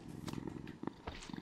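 A cat purrs softly in Minecraft, a faint, low, uneven rumble with a few brief louder bursts over quiet game ambience.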